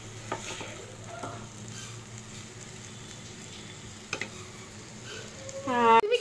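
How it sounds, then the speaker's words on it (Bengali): Food being sautéed in a pan gives a low, steady sizzle with occasional scrapes and stirring knocks, and a voice briefly cuts in near the end. "কষানো চলছে"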